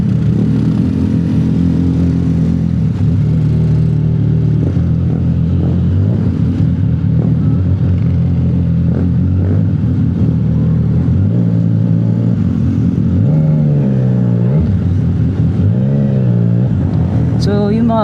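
CFMOTO 675 NK motorcycle ridden through city traffic, a loud close engine drone with repeated rising and falling revs as it accelerates and eases off, wind rumble underneath.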